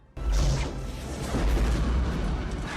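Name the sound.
movie explosions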